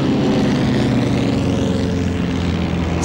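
Propeller airplane in flight during an on-board fight scene from the 1996 film Mulholland Falls, a loud, steady engine drone that fills the whole span without a break.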